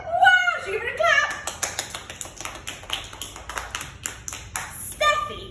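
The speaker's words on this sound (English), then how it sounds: "Should we give her a clap?" Several people clap a short, brisk round of applause to cheer on a squirrel character during a children's story, with a voice speaking over the start and the end of the clapping.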